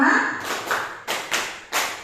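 Several people clap together in a counted classroom concentration game at a primary school gathering; a short spoken prompt comes first, then about five crisp, evenly spaced group claps.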